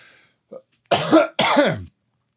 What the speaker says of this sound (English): I really did have to cough